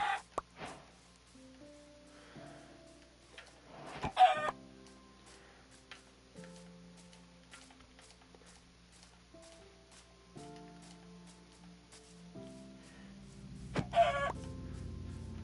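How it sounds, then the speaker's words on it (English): Chickens cluck in the Minecraft video game, with short repeated clucks and occasional louder squawks over a soft ambient music background. Two brief louder bursts of game sound stand out, and nobody speaks. "Can't really be picky this early in the game about the food, so chickens, you're on the menu."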